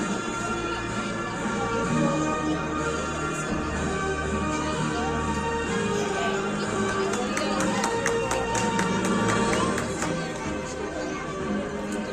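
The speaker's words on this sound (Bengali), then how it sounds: "একটা জোরে হাততালি হয়ে যাক" Audience applause for actor Ratan Jhawar at an award ceremony, a steady dense wash of clapping and crowd noise filling the whole stretch, with a voice speaking over it at times.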